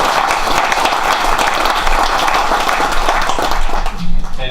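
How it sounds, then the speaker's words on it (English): A crowd applauds steadily for two Maple Hall of Fame inductees at the American Maple Museum's 2018 induction ceremony, a dense, continuous patter of clapping lasting several seconds with a slight swell near the end. "a round of applause for those two"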